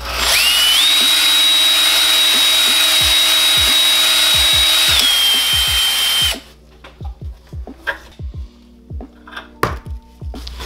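A power drill hones the cylinder of a Honda GX270 engine, running steadily and loudly for about six seconds, then stops, leaving scattered metallic knocks and clatter.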